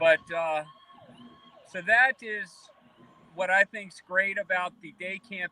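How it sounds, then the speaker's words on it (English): Emergency vehicle sirens passing outside, a faint steady wail sitting low beneath continuous close conversational speech throughout. "sorry for the sirens"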